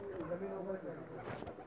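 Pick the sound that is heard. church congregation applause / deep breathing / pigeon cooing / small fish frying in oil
pigeon cooing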